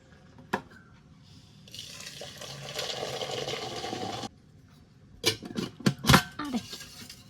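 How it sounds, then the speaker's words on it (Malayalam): Milky tea with a thick layer of cream is poured for about two and a half seconds as a steady liquid rush on an evening farm. Brief clinks and knocks of cups or utensils follow. "ചായ വെച്ചിട്ട് നമുക്ക് അതിലേക്ക് ഒഴിക്കാം"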